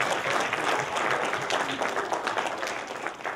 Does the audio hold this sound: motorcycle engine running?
no